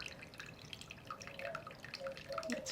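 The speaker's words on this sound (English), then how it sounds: "try to use something to pour the water in, so when you're pouring it, it doesn't mess up all of your rock" Water poured into a homemade water garden planter over rocks, a faint trickle with a few soft drips, close by and with no talking.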